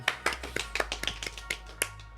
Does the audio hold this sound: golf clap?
yes